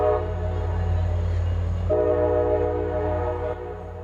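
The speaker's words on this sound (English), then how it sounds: "I'm just going to wait a minute for that train." A train passes close by during an outdoor evening vigil, a loud steady rumble with a sustained horn-like tone that shifts pitch midway and eases slightly at the end, with no talking over it.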